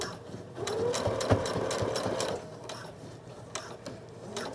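Close, loud whirring of a sewing machine stitching a seam with elastic on a bomber jacket, running in a steady burst that slows and pauses, with a few light mechanical clicks and no speech.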